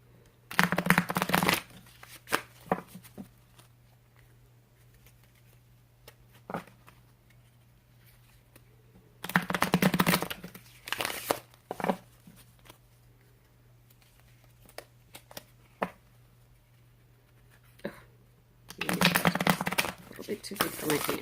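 Tarot cards shuffled in bursts of rapid riffling flutter, three separate bouts spaced across the stretch with quiet pauses and small clicks between, close and crisp, with a person speaking briefly.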